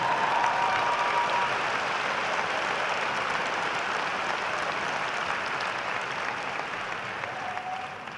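Sustained applause from a large audience at a university commencement, a dense, even wash of clapping that slowly tapers toward the end.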